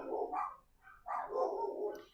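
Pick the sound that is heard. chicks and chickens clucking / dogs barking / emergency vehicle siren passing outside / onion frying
dogs barking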